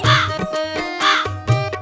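Three harsh, drawn-out caws like a crow, evenly spaced and close, apparently voiced by a person imitating the bird against a musical backing.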